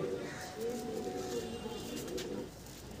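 A teddy pigeon coos softly in low, murmuring phrases, faint and close against a quiet indoor background.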